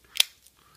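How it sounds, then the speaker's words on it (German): Victorinox Super Tinker pocket knife scissors give a single sharp, crisp snip, close and clear, followed by faint small clicks. "Dann haben wir hier die wunderschöne, Achtung, jetzt kommt's, Schere."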